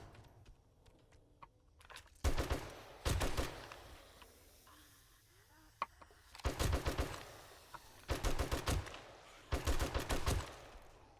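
Heavy weapon gunfire in the zombie game 7 Days to Die: several loud bursts of rapid automatic shots, spaced apart with quieter pauses between, each burst sharp and close.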